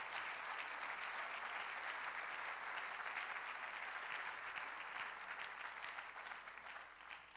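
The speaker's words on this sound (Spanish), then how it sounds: "Dele otro aplauso al Dios Todopoderoso esta mañana." A church congregation claps during a Sunday morning sermon, a faint, distant-sounding wash of steady applause that thins out slightly toward the end.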